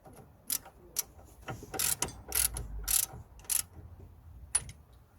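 A ratchet tightening a bolt during a CV joint boot replacement on a Nissan Note, heard as bursts of quick clicking strokes separated by short pauses, close and fairly quiet with no talk.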